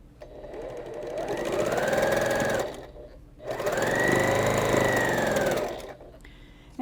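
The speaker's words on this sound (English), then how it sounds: "So I'm going to sew these two and then add that third one onto the side." A sewing machine stitching quilt block pieces together for a Scandinavian Christmas quilt, two close, steady bursts of rapid whirring stitching separated by a brief pause, with no talking.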